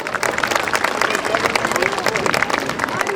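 An audience at a carnival masquerade event in Probištip claps continuously, dense steady applause with crowd murmur throughout.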